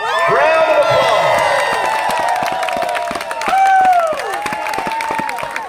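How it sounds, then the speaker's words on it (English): Auction crowd clapping and cheering after a sale, loud enthusiastic applause with shouts and whoops layered on top, swelling again midway, with voices calling out throughout. "Round of applause."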